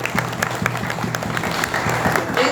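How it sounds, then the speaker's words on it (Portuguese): Church congregation applauding together after a Gospel reading, a steady wash of clapping at moderate loudness, with low rhythmic musical tones running underneath throughout. "E vamos aplaudir a palavra de Deus."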